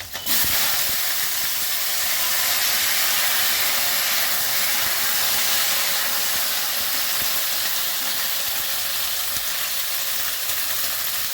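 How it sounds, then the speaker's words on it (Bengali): Ridge gourd dropped into hot oil tempered with nigella seeds and two green chillies, giving a loud, steady sizzling hiss that begins abruptly and holds evenly throughout, with no voices. "তেলটা গরম হয়ে গেছে, কালো জিরে ফোড়ন করলাম, দুটো কাঁচা লঙ্কা, এবার ঝিঙেটা দিয়ে দিচ্ছি।"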